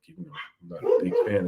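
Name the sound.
dogs barking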